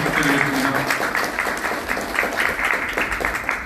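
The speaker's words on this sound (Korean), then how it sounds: "다시 한번 큰 박수 부탁드리겠습니다" Wedding guests clapping together in a hall, a lively burst of mixed applause with individual claps standing out, fairly close and loud, fading slightly toward the end.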